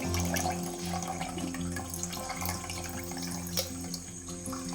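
Water runs steadily from a tap, a quiet continuous hiss and splash with no talking over it.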